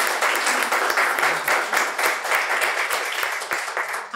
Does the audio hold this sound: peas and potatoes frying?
no